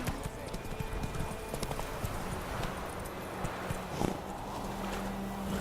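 Roach the horse's hooves clip-clop steadily in The Witcher 3 video game, a continuous walking rhythm set under a dense mix of game ambience and other sounds.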